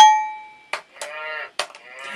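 A person imitates a cow, giving a few drawn-out, tonal moo calls in quick succession, loud and close, with a short sustained tone at the start.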